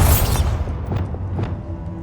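A Bombarda spell blast in Hogwarts Legacy: a heavy boom at the start that decays into a rumbling tail, followed by a few faint debris-like clatters, loud and near.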